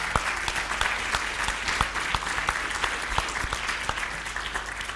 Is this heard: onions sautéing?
no